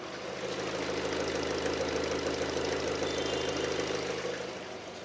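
A Kia K5 sedan's 2.0 engine idles smoothly and quietly at close range, a steady low hum with a faint ticking rhythm and no talking.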